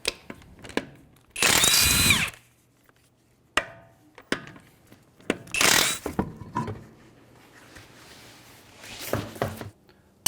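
Impact gun spinning lug nuts off with a 21mm socket on a 2015 Hyundai Sonata front wheel, two loud sustained bursts with a fainter third, separated by clanks and shop clatter.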